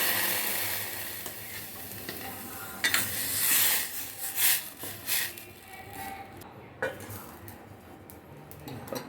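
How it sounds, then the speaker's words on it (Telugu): Dal tempering in a kitchen: a faint sizzle of spices in hot oil under clattering pots, a stirring spoon and several sharp metal knocks, fairly close and busy. "పప్పు తాలింపు పెట్టేసింది."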